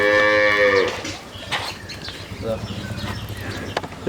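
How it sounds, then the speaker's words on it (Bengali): A cow lets out a loud, drawn-out moo up close at a cattle sale, followed by farmyard noise with faint bird chirps and scattered background sounds. "শক্তিশালী একটা গাভি"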